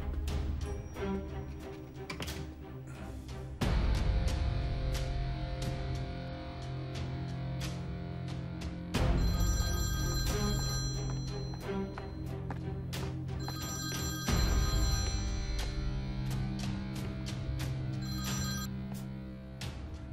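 A telephone bell rings repeatedly in a Turkish drama scene, loud bursts of ringing recurring throughout over a background music bed, with no talk.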